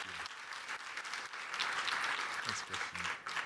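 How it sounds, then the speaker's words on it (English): A round of applause from the audience at a data conference session, steady moderate clapping over several seconds with faint voices briefly audible beneath it. "Another round of applause"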